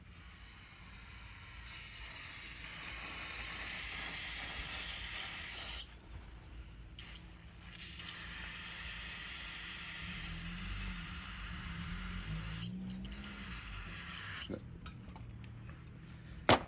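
Brake cleaner sprayed from an aerosol can while servicing the differential on a 2023 Volvo XC90: long, loud, steady hissing bursts, broken by short pauses and a few clunks, with no talk over it.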